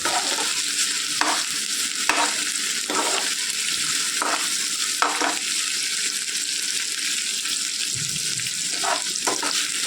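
Food frying steadily in hot oil for a spicy vegetable masala sambar, a loud continuous sizzle with periodic stirring scrapes in the pan, no voices.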